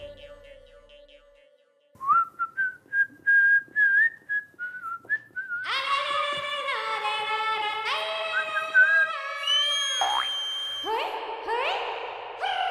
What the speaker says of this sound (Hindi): बंद करना या सीटी बजा के बात करने का